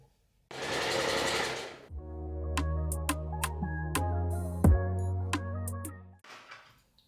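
A domestic sewing machine stitches fabric at a lengthened stitch of around 3 in short runs, a close, even motor hum with clicks and pauses between bursts.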